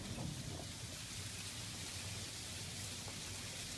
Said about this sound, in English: there is freezing rain falling, and I'm going to put my camera outside the door so you can hear it